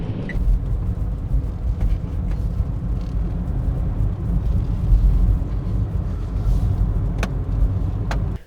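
Kei camper van driving at night along a dark coastal road on Sado Island, its steady low engine and road rumble continuous and close throughout, with a couple of faint clicks near the end.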